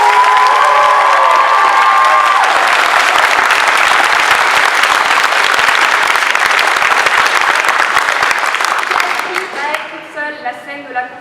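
A theatre audience at a school student revue claps loudly with scattered cheers and whoops, the applause thinning out near the end as a voice begins speaking.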